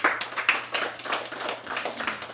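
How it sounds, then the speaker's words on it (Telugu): A seated audience at a talk on meditation claps for Pilot Baba: a close, busy patter of many hands, irregular and continuous, with no speech over it. "లైక్ పైలట్ బాబాకు ఒకసారి గట్టిగా చప్పట్లు కొడదాం."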